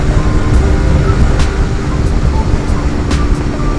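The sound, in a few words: Lifan KP Mini 150cc motorcycle at wide open throttle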